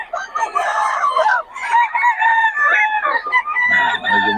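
A Boston Sweater gamecock rooster crows loudly and close by at a market, with a couple of drawn-out crows and a brief break between them, followed by a low murmur of people talking as it ends.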